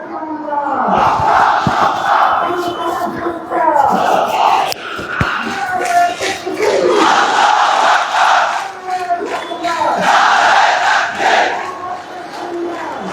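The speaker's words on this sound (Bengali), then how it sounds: "আপনারা দেখছেন নারায়ে তাকবীর আল্লাহু আকবার স্লোগান, আপোষ না সংগ্রাম, সংগ্রাম সংগ্রাম, ক্ষমতা না জনতা, জনতা জনতা" A large outdoor crowd at Shahbag chants religious and political slogans after a funeral, with loud, rhythmic, repeated shouted phrases rising and falling in waves close by.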